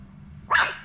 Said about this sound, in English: And he's got his little bark now.